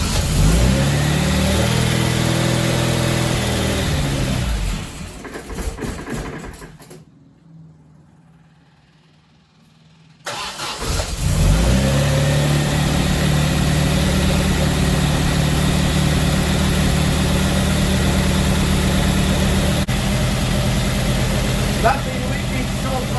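A classic MGB engine idles and revs roughly, cuts out into near silence for a few seconds, then catches again and settles into a steady loud running drone.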